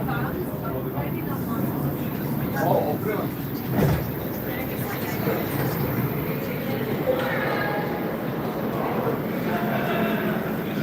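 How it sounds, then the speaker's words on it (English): A Montreal metro train pulls through Mont-Royal station at night, a low rolling rumble with a brief louder surge partway through, while voices talk over it. "Get a shot here of our train going."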